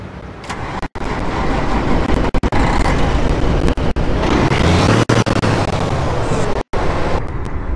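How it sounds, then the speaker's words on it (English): A truck engine fires up and settles into a steady, loud idle, a continuous rumbling drone with a few brief dropouts. "let's fire up the truck."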